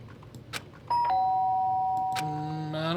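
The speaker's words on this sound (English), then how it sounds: "The sharp sound of the doorbell pierced my sleepy haze and pulled me back to the real world." A video game doorbell rings with a loud, sharp electronic chime that holds steady tones for about two seconds, then a second bright ding follows near the end, all over a faint background hum.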